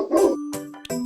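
Cartoon dog barking in a children's animal-feeding video game: a few short, close barks with a sustained electronic tone between them, no talking.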